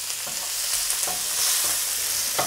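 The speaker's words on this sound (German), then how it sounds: "dann geben wir unseren Speck schon mal dazu. Könnt ihr ruhig von Anfang an auch die Knoblauchzehe mit reingeben." Bacon and a garlic clove fry in a pan, a steady close sizzle with occasional stirring scrapes, no voices.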